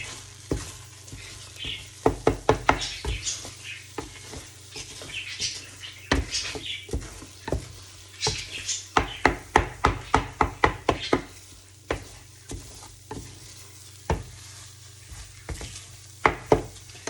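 Scrambled egg mixture seasoned with pepper and salt gets whisked in a bowl, with rapid clicking strokes in bursts and pauses, close and fairly loud against a low steady hum.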